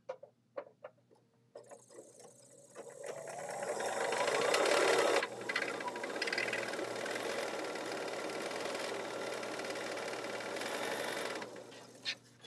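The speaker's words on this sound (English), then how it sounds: "now I'm going to sew a 1/4 inch off of either side of my drawn line" A Bernina sewing machine stitches a quarter-inch seam on a quilt block, whirring up to a steady, close hum for about ten seconds after a few soft handling clicks, then stopping.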